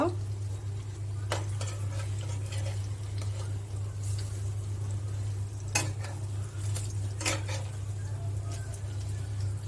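Pumpkin fritters fry gently over low heat, giving a soft, steady sizzle beneath a constant low hum, with a few sharp clinks of a utensil against the pan.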